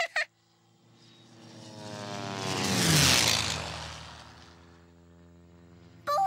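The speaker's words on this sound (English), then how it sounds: "did you see that plane? I saw it. Did you hear how loud it was?" A loud cartoon airplane flies overhead, its engine roar swelling to a peak midway and then fading away, with brief other sounds at the very start and end.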